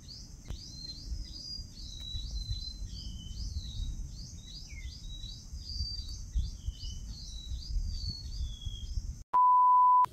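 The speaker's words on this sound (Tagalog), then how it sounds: "Maingay po yung mga ibon na." Many birds chirp and trill in quick, overlapping calls in a quiet rural spot among trees and vegetable plants, steady and fairly near over low background rumble, ending with a short loud electronic beep.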